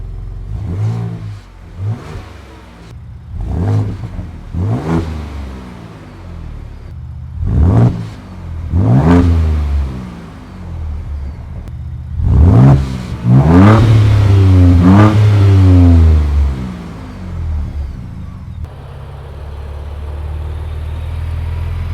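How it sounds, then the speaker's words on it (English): A 2024 Ford Ranger Raptor with active dual exhaust in off-road mode revs repeatedly, each loud blip rising and falling, followed by a longer held rev and a settle back to a steady idle. "And look at those dual exhausts. And yes, it does have active exhaust."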